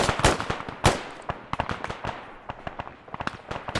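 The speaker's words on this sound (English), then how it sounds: "Alright, 50 cal's going to keep firing." .50 cal machine gun fire in the video game Arma 3, a quick irregular series of sharp cracking shots and thumps, some near and loud, others more distant and fainter.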